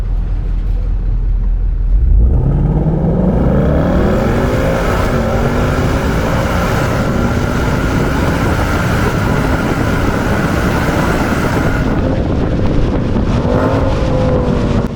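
A 2024 Ford Mustang GT launches hard, its engine revving up in a loud, sustained rising roar through the gears, with heavy wind buffeting on the microphone and a brief lift near the end.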